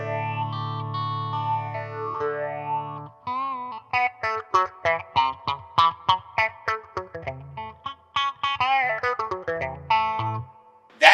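Warm Audio Mutation Phasor II phaser set to full depth and feedback with a slow rate, applied to a played instrument: a sustained note, then a run of short plucked notes with a swirling, sweeping tone.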